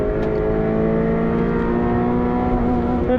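A Subaru BRZ street and track build revs hard under full throttle on a circuit, the engine note climbing steadily with strong, sustained harmonics, loud and close as if from inside the car.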